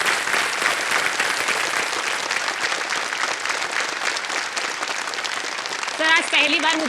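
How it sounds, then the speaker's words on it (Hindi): A studio audience on a game show set claps in sustained, dense applause that runs throughout, with a voice rising over the clapping near the end. "ताली बजते रहे उनके लिए।"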